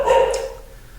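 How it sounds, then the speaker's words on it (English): A dog gives a single short bark indoors, fairly near and brief, fading quickly into quiet. "sorry about the dog barking."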